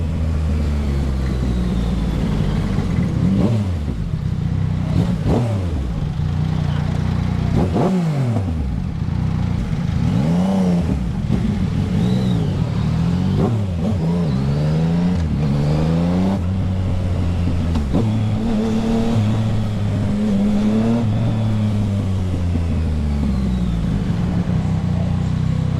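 Yamaha XSR 900 motorcycle engine revving up and down in repeated bursts, loud and close, its pitch sweeping high then dropping, with clattery mechanical texture and no talking.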